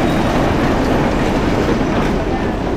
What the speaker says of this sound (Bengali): ট্রেন কিন্তু চলে আসছে